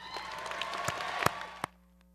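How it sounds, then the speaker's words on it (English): Applause at a UC Hastings law school commencement ceremony in 2019: a fairly soft, even wash of clapping with a few sharper claps standing out, cut off abruptly near the end. "With the graduates receiving pro bono recognition, please stand so we can applaud you."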